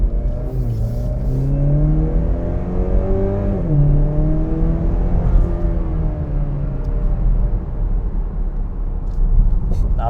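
A 2021 Chevy Camaro 1LS drives with engine tones that rise and fall through gear changes, a smooth mid-pitched whirring hum with steady road noise, heard from inside the car.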